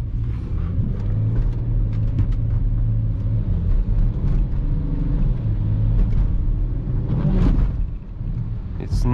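A BMW X5 E70 3.0 SD with 286 hp accelerates hard through city streets, its engine giving a steady, loud, deep rumble heard from inside the cabin throughout.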